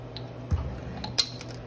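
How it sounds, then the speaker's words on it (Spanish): A utensil stirs doughnut batter with butter and vanilla in a bowl, giving a few light, brief clinks and taps against the bowl over a quiet background. "Y vamos a revolver todo."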